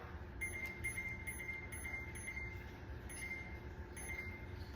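Beeps from setting the timer on a slow cooker, a series of short electronic tones repeating in small groups over a quiet background hum.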